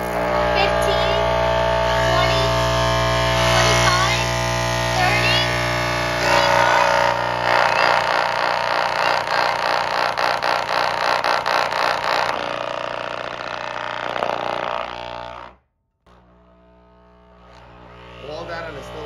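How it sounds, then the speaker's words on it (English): A woofer loudspeaker driven by a Variac hums loudly and steadily, buzzing and rattling as the voltage rises, then cuts out briefly before resuming; voices talk over it. "since the crown couldn't blow out this speaker, we're gonna get the old Variac out"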